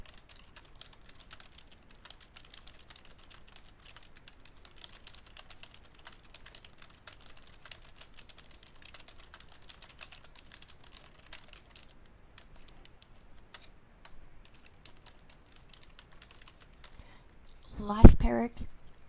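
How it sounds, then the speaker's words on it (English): Rapid, steady typing on a keyboard runs through most of the stretch while a business letter is typed, the clicks fairly close and even before a brief louder burst near the end. "Last paragraph typed."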